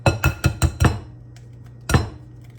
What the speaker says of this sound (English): I'll go ahead and crack my egg.